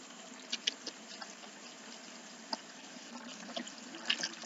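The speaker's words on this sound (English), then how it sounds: "I'm going to pour about 3/4 of water into this jug." Water is poured into a jug indoors, a faint, steady trickle with a few small clinks and splashes.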